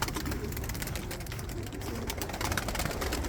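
Pigeons kept for sale in Ankara, two females and a male, cooing softly and continuously amid a steady background hum of a busy indoor space.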